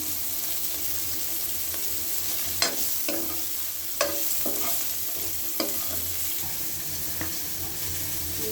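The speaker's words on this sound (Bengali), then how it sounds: "হলুদ লবণ দিয়ে এখন একটু লাল লাল করে ভেজে" Teasel gourd fried with turmeric and salt in a pan gives a loud, steady sizzle with occasional sharp spatula knocks and stirring scrapes, no talking over it.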